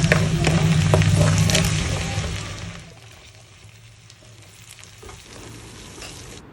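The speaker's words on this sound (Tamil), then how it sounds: "பச்சை மிளகா போட்டுக்கலாம். முந்திரி போட்டுக்கலாம். போட்டு நல்லா வதக்கிக்கலாம்." Onions with green chilies and cashews sizzling and frying in a pan for paneer butter masala, loud and close at first and then settling into a quieter steady crackle, with occasional stirring.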